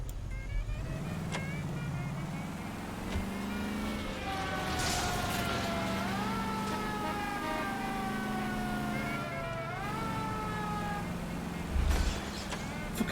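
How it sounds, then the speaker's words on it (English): A wailing siren, read as an ambulance, sweeps up and down in long rising and falling tones through steady car engine and road noise, close and fairly loud, with a brief thump near the end. "It doesn't sound much of an ambulance alarm."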